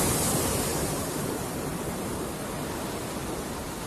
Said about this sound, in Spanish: Las playas se extienden entre el mar y el manglar.